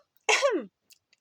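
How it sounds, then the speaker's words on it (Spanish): A single short throat clearing, a rasping vocal 'ahem' with a falling pitch, close and distinct in an otherwise quiet setting, followed by faint small noises. "La profesora Umbridge volvió a carraspear"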